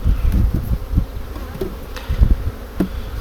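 Honey bees, a Buckfast and AMM cross in a small colony, buzz steadily over a hive frame, a close, continuous drone with a few louder passes of individual bees.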